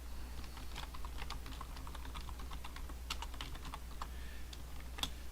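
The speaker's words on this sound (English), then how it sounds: "So I can type in" Keys clatter on a computer keyboard as text is entered, a steady run of close, crisp taps with a few louder strokes near the end, all over a constant low background hum.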